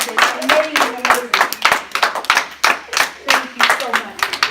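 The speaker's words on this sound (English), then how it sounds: "now give them a big hand clap" A small group claps hands together in uneven bursts, close and loud, with voices calling out between the claps.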